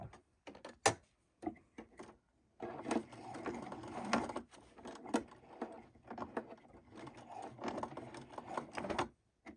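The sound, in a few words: sewing machine stitching through thick pant hem layers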